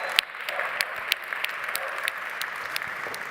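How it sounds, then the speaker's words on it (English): Audience applause at an automotive mobility awards presentation for the top five finalists, a moderate steady clapping from a crowd with a few sharper nearby claps standing out, no talking. "Give them a round of applause for the top 5."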